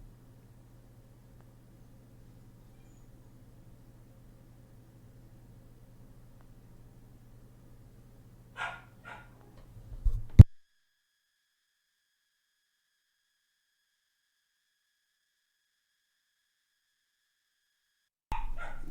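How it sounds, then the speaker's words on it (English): A dog barks at the bottom of the stairs: a few short, fairly distant barks come after a long low hum, then silence, then another brief bark at the very end. "My dog bark at the bottom of the stairs for me because he can hear me talking."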